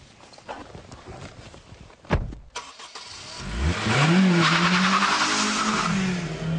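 A 2002 Honda Civic Type R VTEC engine blips briefly, then climbs in a rising, strained howl toward its 8,200 rpm limit, loud and close with no talk over it.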